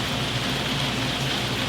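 Steady heavy rain drums on a tin roof over a building, a dense, constant hiss and patter filling the space with no voices.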